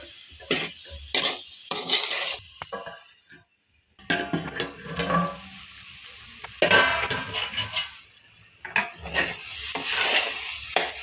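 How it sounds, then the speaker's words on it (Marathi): A spoon stirs semolina sheera with sugar in a pan, making close scraping strokes and light metal clinks. The stirring pauses briefly partway through, with no talking. "साखर घालून शिरा हलवून घ्यायचा आहे"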